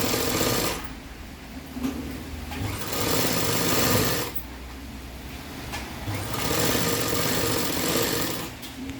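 A sewing machine stitches a simple V-neck frock nighty in a steady rapid whir, running in long bursts with short pauses between them.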